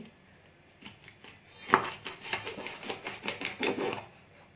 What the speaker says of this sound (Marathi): आता मच्छी कापतानाही अशी उलट सुलट कापायची आहे जशी करली कापतात ना तशी